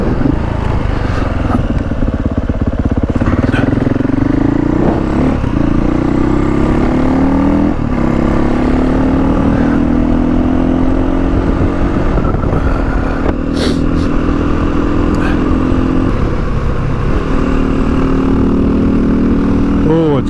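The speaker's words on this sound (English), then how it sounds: "Oh, it's good to get out on the bike." A motorcycle cruises along a road in East Gippsland. The engine drones loud and close throughout with steady rumbling and slight rises in pitch, and wind buffeting mixes in.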